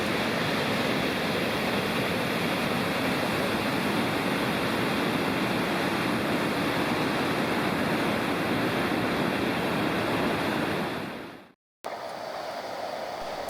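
Water rushing freely through a rock gorge at High Falls, a loud, continuous broadband roar that holds steady and then cuts out briefly near the end before resuming more faintly.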